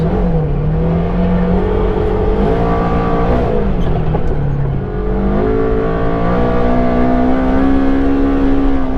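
A Ford Expedition SUV with long-travel suspension and 35-inch tires accelerates hard in sport mode, its engine loud and close as it climbs through gears with smooth rising pitch and brief dips at each shift.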